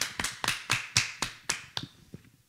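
One person on a Zaza-themed variety show claps in a different style, giving about nine sharp, separate slaps at an uneven rhythm, heard close, that fade softer toward the end.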